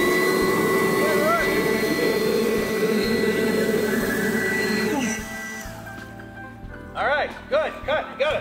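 Fog and wind machines run on a film set, a loud steady broadband roar that cuts off partway through, leaving quieter room sound with voices talking.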